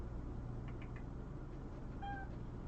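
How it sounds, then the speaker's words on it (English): A cat gives a couple of faint, short meows over a steady background hum, the second call slightly longer and clearer near the end. "that's the cat"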